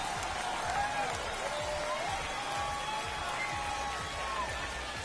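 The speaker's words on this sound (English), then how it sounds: "home crowd going crazy" Home crowd at a minor league baseball game between the San Antonio Missions and Frisco RoughRiders roars steadily after a tiebreaking home run, a dense sustained cheer and applause filling the whole stretch.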